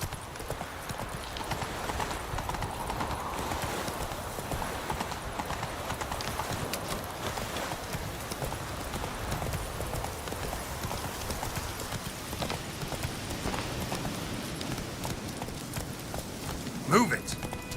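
Roach the horse gallops in Witcher 3, a dense, steady run of hoofbeats that holds at an even loudness throughout, with one sharp louder hit near the end.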